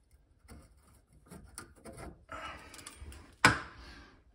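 Pipe dope brushed onto plumbing pipe threads during vanity plumbing work, faint close scratchy rubbing strokes ending with one sharp click.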